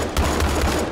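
AK rifle firing in the People Playground game, a brief rapid burst of several punchy shots in quick succession, loud and close over steady background noise.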